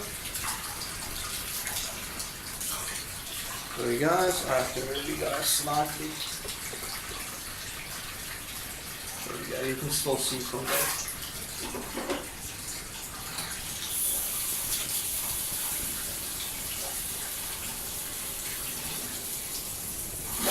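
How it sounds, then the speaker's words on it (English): Hot water runs from a household tap in a steady, rushing stream that continues throughout, while a person talks briefly over it in two short bursts. "Let that run for a few seconds because I want the hot water."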